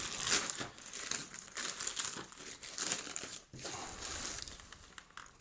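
Packaging of a professional shaver ordered from AliExpress being opened, with steady close crinkling and crumpling of plastic wrap running throughout, loud and continuous with small rustling bursts and no talk.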